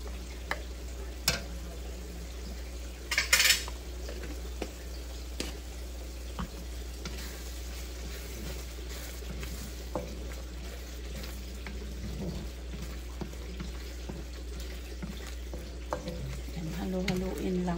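Shrimp, garlic and tomato with turmeric frying in a pan, a steady close sizzle throughout with occasional scraping stirs and a brief louder clatter early on.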